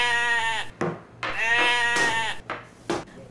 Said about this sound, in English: I see you came in with a goat.